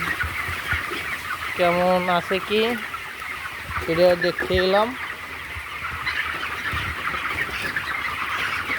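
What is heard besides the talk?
chickens on a poultry farm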